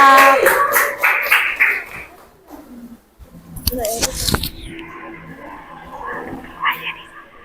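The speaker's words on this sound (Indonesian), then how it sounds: "Tepuk tangan untuk kelompok 4." A classroom group, group 4, gets a short burst of clapping from fellow students that fades within a few seconds, followed by indoor voices and shuffling.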